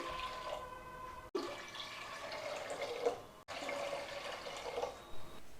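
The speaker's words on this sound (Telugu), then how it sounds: "ఇందులో మూడు గ్లాసులు వాటర్ వేసుకోవాలి" Water splashing and pouring into a pressure cooker in a steady stream, three glasses added for sambar, briefly interrupted twice, fairly close and moderately loud.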